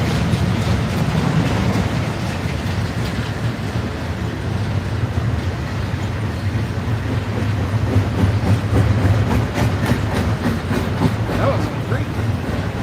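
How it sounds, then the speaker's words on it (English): A long freight train rumbles steadily past nearby, a continuous heavy roar with rhythmic clatter of wheels, and some voices faintly beneath, on the CSX Chattanooga Subdivision at Cowan, Tennessee. "to have an extra train, extra long train today"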